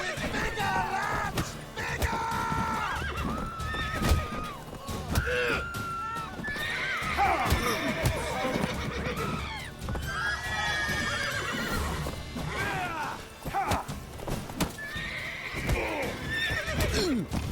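Roach the horse in The Witcher 3, repeated whinnies and neighs with clip-clopping hooves, close and loud, with game voices talking over parts of it.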